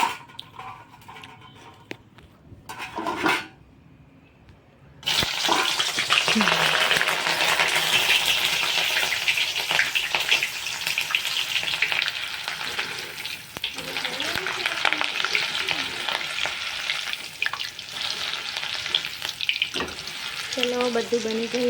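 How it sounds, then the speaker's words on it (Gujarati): Chillies fry in hot oil in a home kitchen. After a few quiet seconds with light clatter, a loud, dense, continuous sizzle takes over and stays strong to the end, with faint scrapes underneath. "હવે મરચાં તળી નાખીએ."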